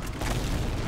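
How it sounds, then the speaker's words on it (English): Explosions in the Diablo 3 video game hit as a loud, dense booming burst that kicks in after a brief quiet start and rumbles on heavily to the end. "Just try not to take too many of those explosions."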